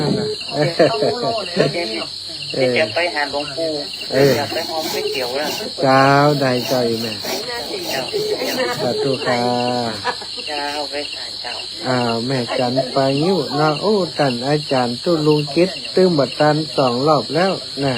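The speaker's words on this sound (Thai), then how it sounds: "เสียงจิ้งหรีดร้อง" Crickets chirp in a constant high, shrill drone throughout, steady and fairly loud beneath someone speaking Thai almost continuously.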